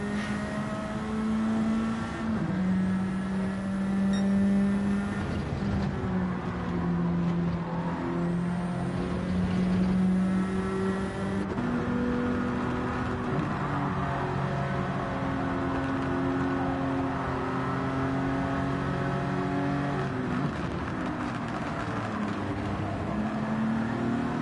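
Race car engines in Gran Turismo 7 drone steadily with shifting revs and pitch changes as several cars run close together, a continuous loud mechanical whine throughout.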